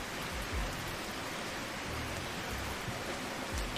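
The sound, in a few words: rain in Placid Plastic Duck Simulator video game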